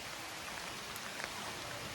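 Rain starts falling near a tea estate at Bekar's Bend, a faint, steady hiss of drops pattering on surfaces with no voices.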